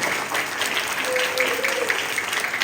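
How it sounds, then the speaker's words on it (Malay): Applause from an audience at a school's first-day-of-term event, congratulating the pupils: a brief, steady patter of many hands under a faint held tone. "Beri tepukan yang gemuruh untuk kita bersendiri."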